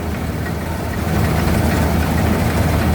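A Kubota DC108X combine harvester, its 3,769 cc turbocharged direct-injection diesel running during a rice harvest, giving a steady, loud, close engine roar with a dense low rumble and no pauses.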